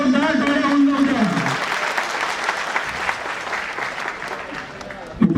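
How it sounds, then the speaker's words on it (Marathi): A crowd at a large Guru Ravidas Jayanti celebration in Pune claps warmly for an organizer: a steady wash of applause that a voice speaks over at the start and again at the very end. "यांच्यासाठी जोरदार टाळ्या होऊन जाऊ द्या"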